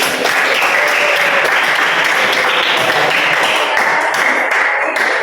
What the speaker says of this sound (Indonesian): beri tepuk tangan untuk diri